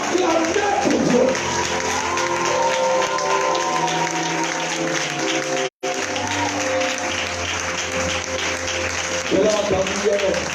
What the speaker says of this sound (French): Est-ce que tu peux acclamer pour ce Dieu?